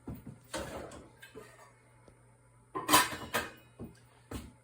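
A lid set onto a pot of beef bourguignon in a home kitchen, a couple of clear metallic clanks close by, then a few lighter knocks against the pot rim.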